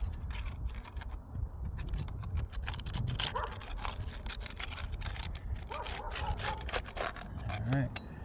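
Putty knife scraping and prying along asphalt roof shingles to break their seal, a steady gritty rubbing and scraping with granules loosening, continuous and fairly close under faint background noise.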